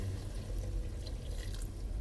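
Water pours steadily into a pot of red val bean curry cooking in a village kitchen in Botad, Gujarat. It makes a continuous close splashing and trickling wash with no pauses.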